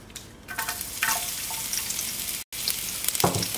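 Garlic fries in olive oil in a pan, giving a steady close sizzle with crackling spurts and faint stirring clatter, briefly cut off before resuming.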